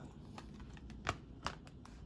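Oracle cards being shuffled and flipped, a few soft rustles and two sharper snaps of cards falling, fairly quiet and close with no talking.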